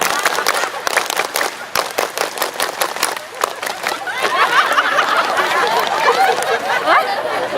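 An audience performs the rhythmic scout clap, tepuk pramuka: a crowd claps in quick patterned bursts, then breaks into cheering and loud chatter.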